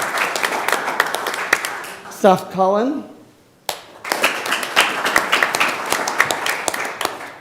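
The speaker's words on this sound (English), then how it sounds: "so we'll clap" An audience at a school board of education meeting claps for award-winning students with dense, close applause. The clapping stops while a speaker reads out a name, then resumes just as strongly.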